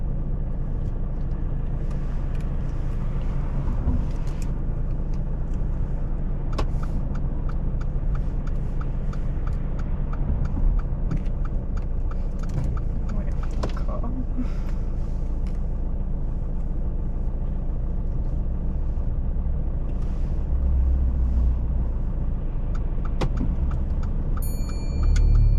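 A car on a driving test pulls away along a road with a steady, close engine and tyre drone, a continuous low rumble broken by occasional small clicks, and no one speaking.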